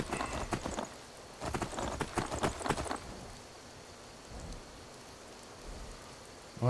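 Rain falls in the video game Skyrim, a faint steady hiss of drops behind a run of rhythmic hoof-like clopping steps that fades out, leaving soft continuous rainfall.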